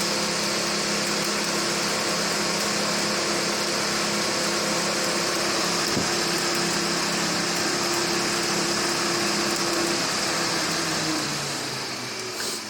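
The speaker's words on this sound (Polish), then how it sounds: "Wentylator prawie odlatuje." Air-conditioning blower fan in a pre-facelift BMW E65 running at high speed, a loud steady whooshing roar with a constant whine, holding level before easing slightly at the end.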